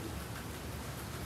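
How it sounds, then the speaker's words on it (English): Rain falling outside, a soft, even hiss of drizzle heard faintly and steadily throughout, with no voices. "Katie, it's raining."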